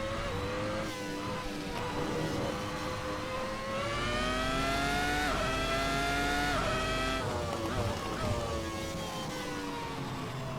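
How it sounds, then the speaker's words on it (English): A sim racing car understeers, its tires scrubbing across the track surface over a loud, steady engine note whose pitch bends and climbs, with a rising surge mid-run and no talk over it. "the tires are simply giving up. They're scrubbing across the track surface"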